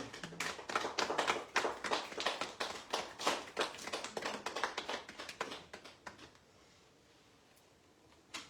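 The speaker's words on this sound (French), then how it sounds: "Applaudissons le roi des rois." A church congregation applauds, a quick burst of many hands clapping close and crisp, fading out after about six seconds into near silence with a last faint clap at the end.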